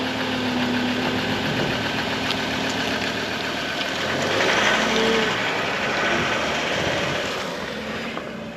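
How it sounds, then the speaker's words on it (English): A Ford Ranger Wildtrak on its standard exhaust idles in a steady, continuous drone, fairly close and loud, with a slight swell partway through and no talking over it. "that's it with the standard exhaust sound"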